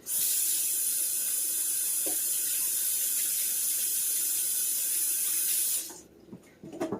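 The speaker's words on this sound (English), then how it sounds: "Let me wash my hands out here right fast." Hands being washed under a running tap outdoors during home beet canning: a steady, close rush of water that runs for most of the clip, then cuts off, leaving a few faint knocks.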